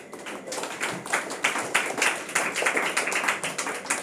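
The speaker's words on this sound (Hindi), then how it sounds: "विनय के लिए ताली बजाओ।" A church congregation claps for a member named Vinay, a roomful of hands beating in a fairly steady rhythm that builds after the first half second and carries on loudly to the end.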